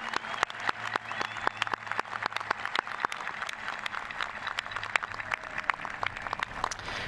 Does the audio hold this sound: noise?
no